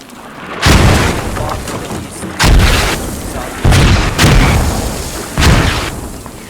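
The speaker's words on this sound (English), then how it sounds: "Mortars. Keep dropping in." Mortar shells land in the tactical shooter game Squad, four heavy booming impacts spaced a second or two apart, each with a long rumbling decay, loud and close.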